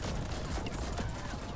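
Shotgun blasts from the video game The Ascent, a dense, loud barrage of overlapping shots and impacts filling the whole short moment.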